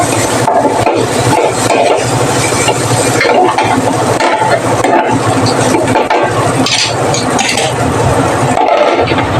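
Bottle gourd cooks in a wok. A loud, close scraping and stirring runs throughout over a low sizzle, with no voices.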